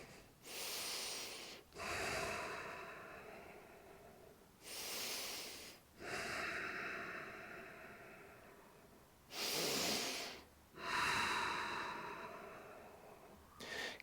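Slow, deep breaths during a yoga crescent lunge, loud and close, with long airy inhales and exhales alternating in a steady rhythm of several full cycles and brief pauses between.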